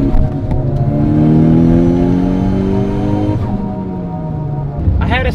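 A Mitsubishi Evo 8 running about 34 PSI of boost, 420 whp, pulls hard on wet pavement, its engine note climbing loud and close through a gear, then dropping at a shift before rising again.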